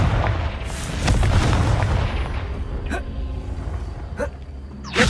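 Confringo fire spells go off in Hogwarts Legacy as a string of sharp booming blasts, each followed by a fading rumble, with loud combat noise underneath and a few crisp bursts near the end.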